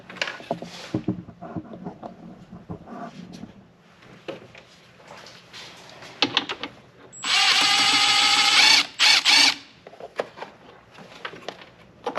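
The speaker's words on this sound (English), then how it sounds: "So we're going to take this 10mm bolt out and remove this so we can gain access to the dust cap." A power tool backs a 10mm bolt out of a Chrysler Pacifica's headlamp area, one loud, close whir lasting a couple of seconds, preceded and followed by scattered clicks and handling noises.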